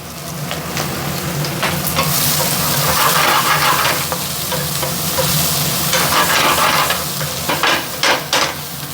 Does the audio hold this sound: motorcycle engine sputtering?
no